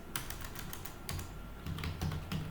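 Rapid close-up typing on a computer keyboard while writing program code, a run of clattering keystrokes followed by heavier key presses, no speech.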